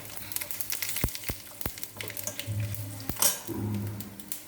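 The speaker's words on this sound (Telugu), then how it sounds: "ఈ వేగేటప్పుడు కొంచెం జీలకర్ర కూడా వేసేస్తానండి" Spices and cumin crackle in hot oil for a gongura curry tempering, with a quiet sizzle, several sharp pops and spoon clinks against the pan, close by and without talk.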